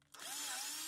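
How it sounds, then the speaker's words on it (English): A power drill on a milling machine spins up to drill out holes with a slightly larger bit, a brief rising whine that settles into a steady buzzing tone. "then I went up 10 thou, and I'll drill those out"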